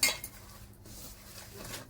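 A spoon clinks against a bowl while salt, sugar, turmeric and mustard oil are mixed into spices. One sharp knock opens the stretch, then comes soft scraping and faint clatter, close by and quiet.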